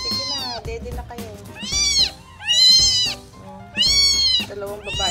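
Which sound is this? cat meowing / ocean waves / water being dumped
cat meowing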